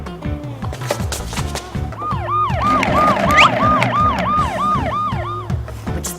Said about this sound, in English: That siren is a police car siren.